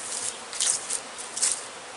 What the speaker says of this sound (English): You can see the bee activity on it.